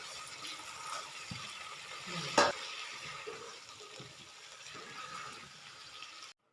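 Keema and cauliflower being stirred and mixed in a frying pan, a soft continuous sizzle with scraping and stirring noises and one brief louder clatter, fairly quiet throughout.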